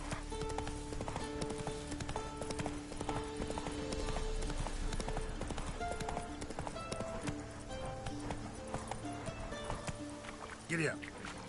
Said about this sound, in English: Acá en este juego manejar caballos es horrible.